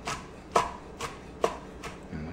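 Knife slicing through cooked clams for linguini on a cutting board: four or five crisp, evenly spaced cuts, close and fairly quiet, each a short sharp tap against the board.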